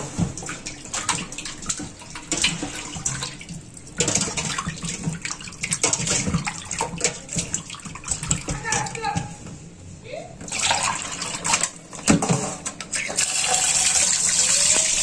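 Cut pieces of a large fish are rinsed under running tap water, a steady gushing splash that swells and dips as the pieces are handled, with a voice talking over it at times.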